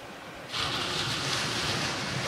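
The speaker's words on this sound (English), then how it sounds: "Here we are at the edge of the Atlantic Ocean." Atlantic Ocean waves at the shore, a broad hissing wash that swells in suddenly after a quieter start and holds steady, mixed with some wind noise.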